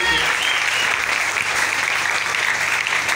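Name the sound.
congregation applauding for the Lord Jesus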